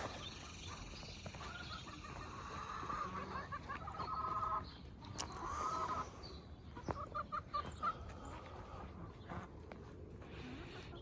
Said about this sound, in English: Here's his chickens. These are his chickens.